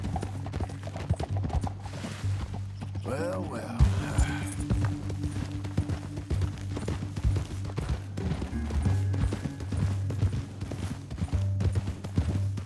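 Horse hooves clip-clop steadily in the video game Red Dead Redemption 2 as riders move through a canyon, a rhythmic trotting beat heard close with brief male speech over it.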